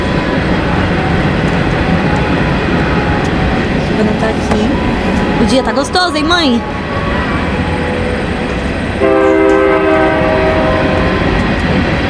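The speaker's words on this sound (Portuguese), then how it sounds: "Opa, olha o trem passando, deixa eu mostrar." A passing train rumbles and clatters steadily close by, sounding a couple of horn blasts midway and again later, while someone talks over it.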